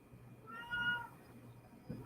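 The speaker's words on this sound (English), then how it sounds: "Cat is screaming at the walls." A house cat meows loudly in one drawn-out, wavering cry near the microphone, followed by a brief soft noise and faint low room hum.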